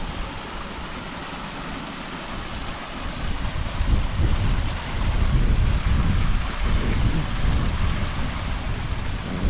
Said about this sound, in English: you've got a little waterfall down there.